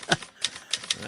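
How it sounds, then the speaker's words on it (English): Sharp typewriter keystrokes, four crisp clacks in quick, uneven rhythm, close and fairly loud, with no talking. "Oh, it's a typewriter computer."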